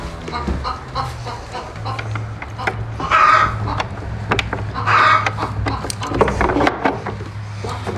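Chickens cluck and squawk nearby in bursts, with a louder flurry of calls twice, amid rustling and some background talk.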